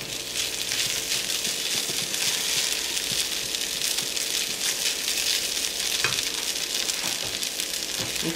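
Bacon sizzling in a pan, with a dense, steady crackle and spatter running throughout at a constant close level.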